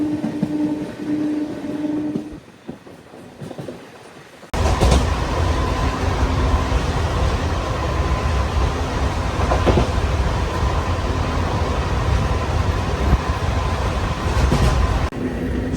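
The Anantapur–Bengaluru MEMU passenger train runs steadily with a loud, continuous rumble and rattle of wheels on track after a brief quieter stretch, the roar filling the rest of the span.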